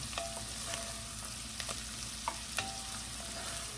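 Carrots and cabbage stir-frying in oil and butter in a cast iron saucepan, a steady close sizzle broken by occasional light clicks and crackles of stirring.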